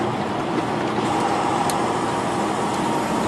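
A truck engine dropping its revs after a downshift on a highway exit, with the Jake brake engaged, as a loud, close, steady drone that runs the whole time.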